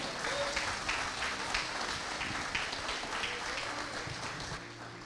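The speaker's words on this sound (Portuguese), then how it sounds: "Aplauda o Senhor." A church congregation at a Sunday service claps for the Lord in a broad, continuous wash of applause, moderately quiet and sustained throughout, with faint crowd murmur underneath.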